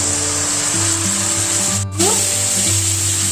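Green chillies, cumin and garlic paste sizzle in a pan for a hilsa, potato and eggplant curry, giving a loud, steady frying hiss with a brief dip midway and a low tonal hum beneath.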